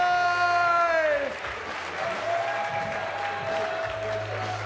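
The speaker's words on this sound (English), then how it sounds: "You know what makes athletes smile honestly? Applause!" A crowd applauds at the Dock Masters 2025 dog-sport finals, a steady wash of clapping with a few distant cheers, following a loudly amplified announcer's voice at the start.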